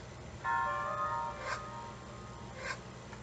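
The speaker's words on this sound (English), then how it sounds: "within the map screen menu, you can shift to other menus within that greater category" A bright chiming video game map-screen menu tone rings out, followed by two softer whooshing blips, all over a low steady hum.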